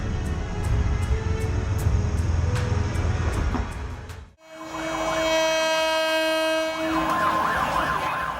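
A train on the Maeklong market railway in Bangkok sounds a loud, sustained horn-like tone over busy, clattering market bustle for its final four seconds.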